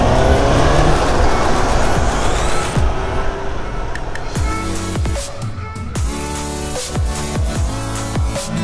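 A Suzuki GSX-S 750 motorcycle ridden on a road: a loud, steady engine roar close by for the first few seconds that fades as music takes over.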